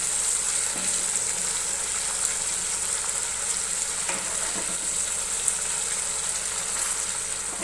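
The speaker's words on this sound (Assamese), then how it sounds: "ইয়াতে মই এতিয়া অলপ পানী দিম" Chicken masala sizzles and bubbles steadily in a pan as water is poured in to make gravy, a loud, continuous close-up frying hiss with no talking.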